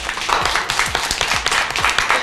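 Children clapping for a classmate in a school classroom, a short burst of brisk, fairly loud applause with uneven rhythm.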